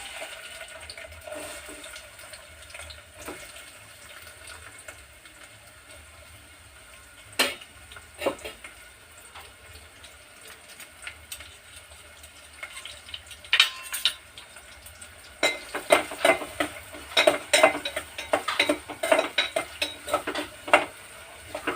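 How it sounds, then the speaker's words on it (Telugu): Onions go into hot oil for a bitter gourd curry, and a soft background hiss rises with clinks of utensils and stirring. The activity grows busier and louder toward the end, with repeated scraping and clattering. "ఇప్పుడు ఆయిల్ కాగింది కదా, ఉల్లిపాయలు వేసుకుందాం."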